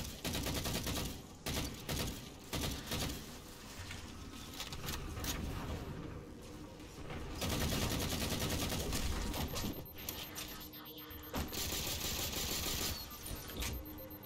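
Video game gunfire in Halo 4 that includes pistol shots, a dense and loud barrage of rapid shots and explosions running almost without pause over a busy battle backdrop.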